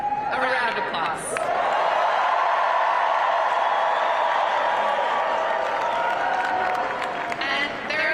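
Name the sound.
audience applause and cheering at campaign rally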